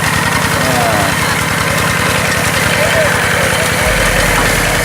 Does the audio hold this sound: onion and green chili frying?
no